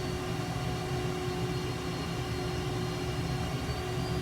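An F/A-18 jet engine in Microsoft Flight Simulator 2020 is throttled up for taxiing, giving a steady, loud broadband roar with a constant whine on top and no breaks.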